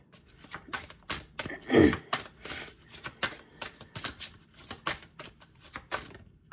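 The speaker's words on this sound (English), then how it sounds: "I'm going to keep shuffling until I get just one card" A deck of cards is shuffled by hand up close, with a run of soft, rapid riffling flutters and light snaps repeating for several seconds at a quiet level.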